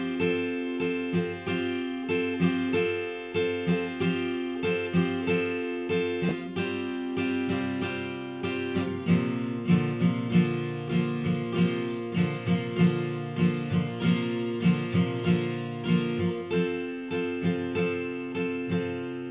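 A guitar strums the chord riff of a song in a steady, driving rhythm, with repeated percussive attacks and ringing chords played alone for about twenty seconds.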